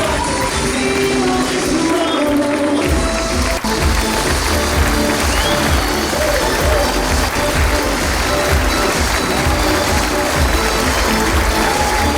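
A dense, continuous wash of audience clapping welcoming birthday celebrants Daisy and Erica at an evening party, loud and steady throughout with crowd noise blended in.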